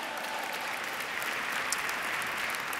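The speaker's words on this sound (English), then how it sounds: "Yeah, you can applaud." Steady applause from an audience at a book award ceremony, dense and even throughout with no voices breaking through.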